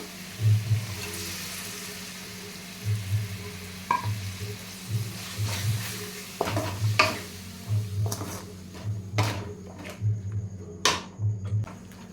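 Ground onion and tomato paste sizzling in a hot pan, a continuous close frying hiss broken by repeated stirring strokes and occasional sharp clinks of a utensil against the pan.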